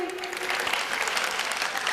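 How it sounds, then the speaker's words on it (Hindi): Audience applause at a religious gathering at Shikharji right after a devotional song ends, a steady broad clatter of many hands held at an even level over a brief span. "गीत खत्म हुआ, तालियां बजाइए।"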